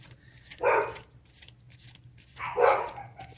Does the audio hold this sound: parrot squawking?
no